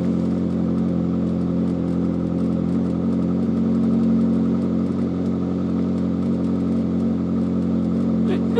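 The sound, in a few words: Caterham sports car engine and muffled exhaust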